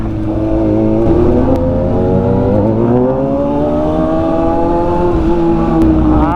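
A sports motorcycle engine revs steadily in traffic in Dagupan, its pitch rising and holding loud and close throughout, with no talking.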